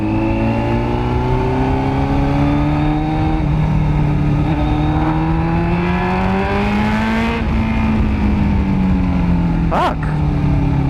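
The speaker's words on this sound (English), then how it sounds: "Yoshimura का short pipe है भाई." A carburetted superbike of roughly 100 brake horsepower with a Yoshimura short exhaust pipe roars steadily up close, its engine note climbing and holding through gear changes, with a sharp burst of revving near the end.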